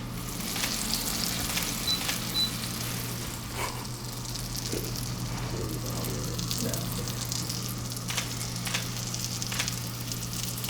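Chicken sears in a non-stick sauté pan on high heat, a steady moderate sizzle with faint crackles and an occasional light tap, alongside a constant low hum.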